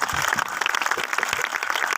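A talk-show studio audience breaks into applause, a dense wash of clapping that fills the room continuously for a couple of seconds.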